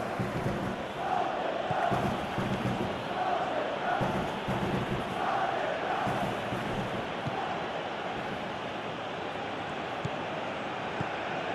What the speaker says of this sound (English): quite a cheer with Rafinha.